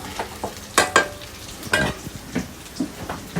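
Stuffed brinjal curry, gutti vankaya, frying in a pan while being stirred, with a soft background sizzle broken by several sharp scraping and clattering strokes of the spoon at irregular intervals, close and clear with no talk.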